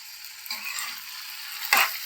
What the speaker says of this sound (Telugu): చిక్కుడుకాయలు వేసాను. కొంచెం ఒకసారి తిప్పుదాము.